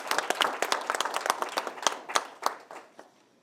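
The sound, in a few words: audience applause for Kate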